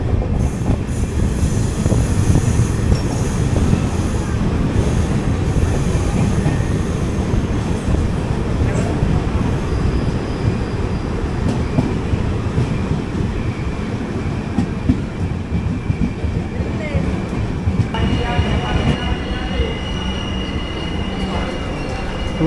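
The Kochuveli Superfast Express rolls into Kannur station, a steady rumble of railcars with rhythmic wheel clatter over the rails and a thin wheel squeal later on, close and continuous.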